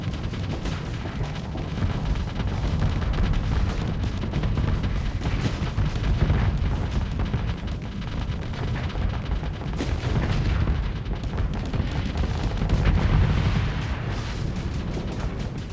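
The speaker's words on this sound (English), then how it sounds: "Fire torpedoes." Torpedoes firing during a space battle in the video game Starsector, a dense, continuous roar of booming launches and explosions that holds steady and loud throughout, with no talk over it.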